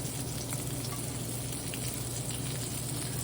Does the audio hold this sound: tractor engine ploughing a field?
no